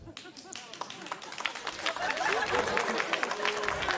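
An audience at a stand-up comedy show breaks into applause, scattered claps that swell into a fuller, steady round of clapping mixed with crowd murmur.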